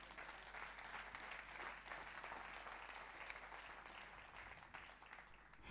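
A church congregation applauds in a sustained round of clapping, steady and dense throughout, heard fairly faint and distant with no voices standing out.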